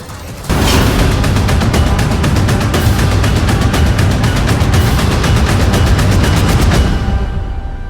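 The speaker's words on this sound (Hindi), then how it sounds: "इस दौरान अंधेरे में ही वो ताबड़तोड़ मिसाइल और बमबारी करते दिखाई दिए।" Missile fire and bombardment by the Israeli army in Gaza at night: a loud, continuous barrage of rapid blasts and booms that starts abruptly and rumbles on for several seconds before fading.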